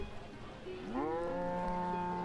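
A cow in the village-building game Banished lets out a single long, rising moo that holds steady over faint background ambience, with no speech.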